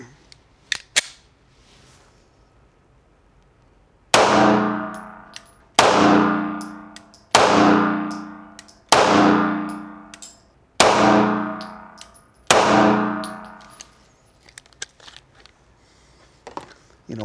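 Six loud 9mm shots from a Springfield Armory XDE compact pistol firing Federal Syntec 124 grain ammunition at an outdoor range, each followed by a ringing clang from a steel target, spaced about a second and a half apart.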